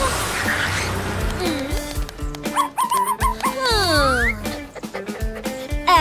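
A dog whimpers and yips in a series of rising and falling high-pitched cries, close by, mixed with busy background noise and voices talking.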